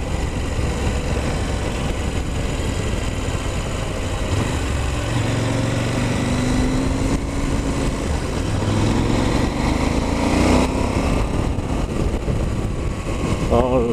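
A KTM 790 Adventure motorcycle rides at an easy pace through the Haute-Savoie countryside, with a constant engine drone and heavy wind rush that stay loud and unbroken throughout.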